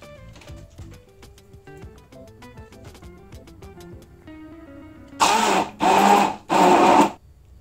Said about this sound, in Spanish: Y ahora lo voy a licuar.